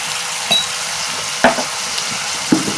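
Onions frying in a pan with a pinch of turmeric, a steady soft sizzle with three brief louder stirring scrapes spaced about a second apart, close and alone.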